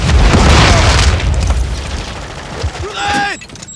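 A grenade detonates in Call of Duty Modern Warfare 3 as a heavy, close boom that rumbles and fades, with shouted game voices and whooshing effects following.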